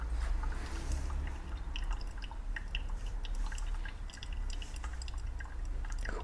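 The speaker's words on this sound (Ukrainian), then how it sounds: "Робимо досить великий пролив." Hot water is poured over ground coffee for filter brewing, a soft, steady trickle with scattered drips and splashes that runs continuously and fairly quietly, with no voices.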